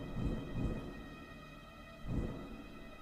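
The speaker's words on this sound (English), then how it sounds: "Or this is the lightning." A lightning bolt spell in the video game Wo Long: Fallen Dynasty booms as soft, low rumbling bursts, two swelling near the start and another after two seconds, over a steady tonal game hum.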